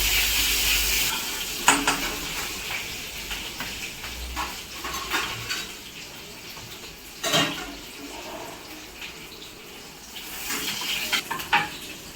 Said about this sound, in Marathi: आणि थोडीशी हिरवी मिरची ॲड केलेली आणि हे मस्त असं छान परतून घेते